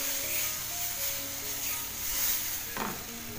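Gram flour pithla being stirred in a pan on low heat, a steady soft sizzle with scraping stir strokes and one sharper scrape near the end, no talking.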